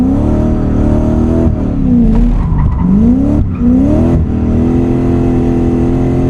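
1UZ V8-powered Nissan S14a 200SX drifting, its V8 loud and near with repeated throttle blips, revs surging and dropping, a brief cut and stutter midway, and some tire noise underneath.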